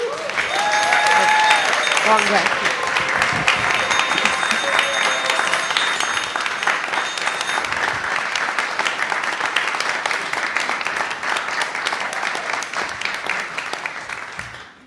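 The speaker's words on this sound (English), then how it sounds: "Please give our pageant players a rousing round of applause." Audience applause for players in a church Christmas pageant at a Unitarian Universalist society in Middlebury, Vermont, a loud, dense round of clapping lasting about fifteen seconds, with a brief voice at the start.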